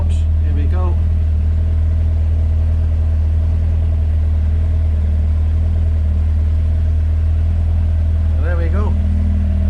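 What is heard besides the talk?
Peugeot 205 GTi Mi16 engine running after throttle stop adjustment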